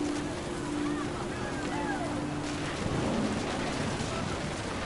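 Heavy rain pours steadily in What Remains of Edith Finch, a dense continuous hiss with a faint low rumble like distant thunder underneath and a soft voice-like tone at the start.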